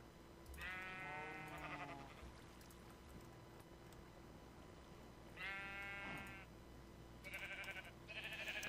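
Sheep in the Minecraft Better Than Wolves mod give several short wavering bleats, two grouped early on and two more near the end, heard alone over a steady low game hum.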